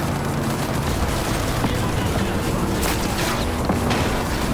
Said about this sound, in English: The gunshots aren't any problem.